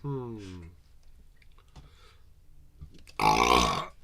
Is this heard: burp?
yes